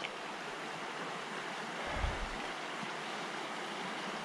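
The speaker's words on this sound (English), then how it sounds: "Coon Brook is flowing." Coon Brook, usually a tiny trickle, now flowing high beneath a bridge, giving a steady broadband rush of running water heard alone, with a brief low rumble partway through.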